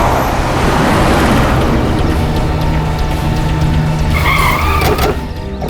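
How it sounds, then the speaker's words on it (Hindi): A car speeds away with its tires skidding and squealing on the road, a loud, continuous engine roar with screeching rising near the end of the scene. "भगाओ गाड़ी"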